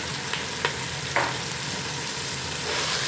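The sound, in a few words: minced beef keema frying with onion, garlic, ginger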